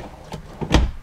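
An RV drawer in a new 2016 Keystone Montana 3911FB fifth wheel slides and thuds shut, a short soft rub followed by a louder close, heard near and alone.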